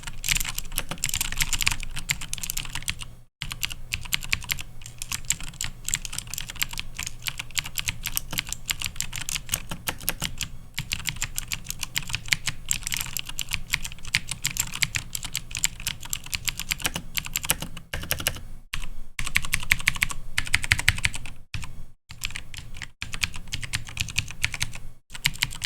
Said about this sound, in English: let's get into this sound test.